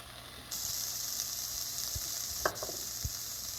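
Sizzle of onions hitting hot oil in a pan while cooking a spinach curry, a steady close frying hiss that starts abruptly and continues, with a few soft clinks and stirring taps.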